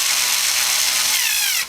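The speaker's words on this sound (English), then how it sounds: "I'm going to screw in the front screw, which is the only one that you can do now." A power tool drives the front screw into the sheet metal of a WHF or Norwalk juicer, giving a loud, steady high whine that holds close and constant, then cuts off abruptly at the end.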